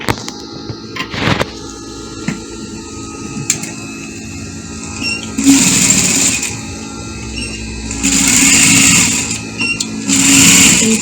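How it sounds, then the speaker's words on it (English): A sewing machine stitches curved seams in fabric for a pencil dress. The motor runs in short buzzing bursts separated by pauses and soft handling noises, close and fairly loud. "I'm going to start stitching."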